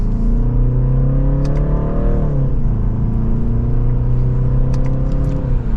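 A 2025 BMW 330i M Sport accelerates in second gear in sport mode: steady engine drone rising in pitch, dipping at a shift, then climbing again, heard loud from inside the cabin with no talk.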